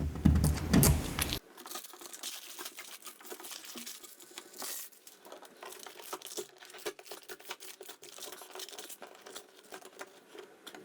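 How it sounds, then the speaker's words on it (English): Tape strips are peeled off a Samsung Frame TV wall mount, giving close crinkly rips and small rattling clicks in irregular bursts, opening with a louder low thump. "Now I'm going to remove all my tapes."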